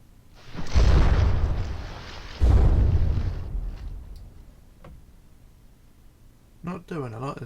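Ship guns in the naval game From the Depths fire two heavy booming shots about two seconds apart, each rolling off into a long rumbling decay, followed by faint distant pops and a brief voice near the end.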